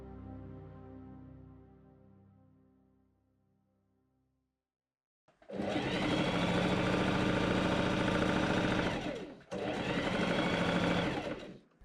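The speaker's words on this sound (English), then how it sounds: "I machine sew 2 rows of gathering stitches along the bottom of the puff sleeves" A sewing machine runs two steady, loud bursts of rapid stitching, separated by a short pause, as it sews gathering stitches on puff sleeves for an 1890s Victorian shirtwaist, following quieter faint tones and near silence.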